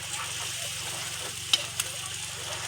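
Potato pieces sizzle and fry steadily in a pan of chicken adobo, with a constant crackle, a faint low hum and a couple of small clinks from stirring.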